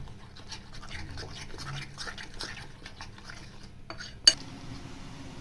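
A spoon scrapes and clinks repeatedly against a bowl of dhokla batter with turmeric, ginger-chilli paste and oil, in quick irregular strokes, ending with a sharp knock.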